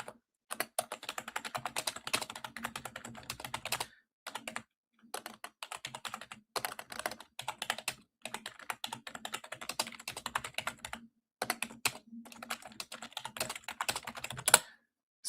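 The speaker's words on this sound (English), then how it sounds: "I'm typing the commands" Someone types commands on a computer keyboard in quick bursts of close key clicks, separated by short pauses, with no talking.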